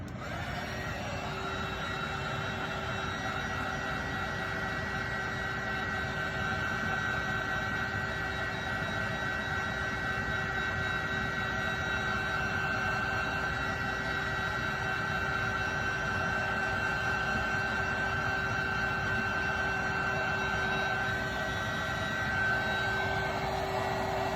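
A heat gun blows hot air onto an alcohol-ink tumbler, a steady, even whooshing hum with a constant whine running unbroken and close for the whole stretch, no voices over it.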